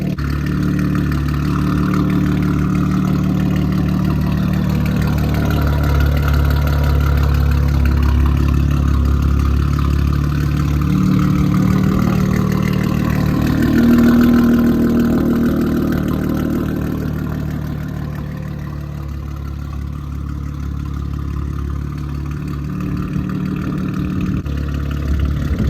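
Audi RS5 B9 fitted with CarbNlab downpipes idles after a cold start, a steady low engine drone heard from the front that swells briefly midway, then settles quieter and smoother.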